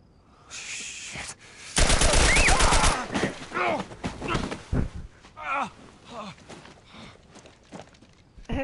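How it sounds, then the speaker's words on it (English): A rapid burst of automatic gunfire erupts in a tense moment of The Last of Us, lasting about a second. Scattered thuds and movement follow, and voices speak around the shots. "The hell are you shooting him for?"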